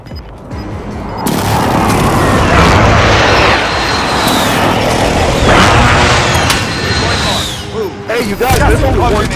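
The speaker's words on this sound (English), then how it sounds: "Precision airstrike inbound." Precision airstrike in Call of Duty, a series of loud heavy booms rolling one after another with crackling debris, close and powerful, and a voice briefly speaking over the blasts.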